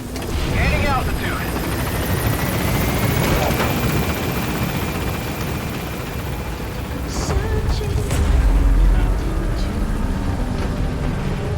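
A game helicopter lifts off in Metal Gear Solid V: The Phantom Pain, its rotor drone steady and fairly loud and swelling toward the end, while a voice speaks over it.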